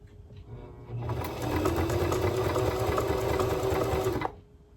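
A sewing machine runs a straight stitch in a steady, fast whirring hum with rhythmic needle clatter for about three seconds, close and loud, then stops abruptly.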